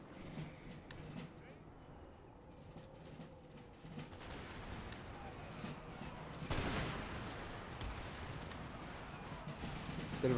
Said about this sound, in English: the good news is artillery is fucking them up